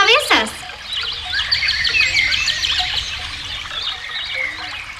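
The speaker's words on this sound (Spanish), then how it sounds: "Los pajaritos pasan cantando sobre sus cabezas." Small birds chirp and sing in quick repeated phrases over a steady trickle of brook water, fairly close and continuous.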